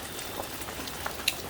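Light rain patters softly on a surface, faint and steady, with a few louder drops near the end.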